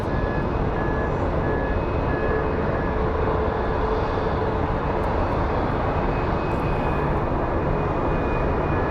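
A Frontier airliner takes off at Phoenix Sky Harbor International Airport, producing a loud continuous jet engine roar heard from nearby, steady throughout with no talk over it.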